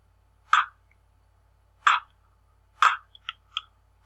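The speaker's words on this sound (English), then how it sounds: "If you lift the back of your tongue up and push against your uvula," Sharp, isolated clicks made by pressing the back of the tongue against the uvula: three spaced pops followed by a quicker cluster of softer clicks, close and dry against silence.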